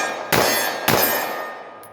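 Two sharp metallic clangs of .45 ACP rounds from a Glock 21 striking a steel target downrange, about half a second apart, each ringing out and fading slowly, with no talk.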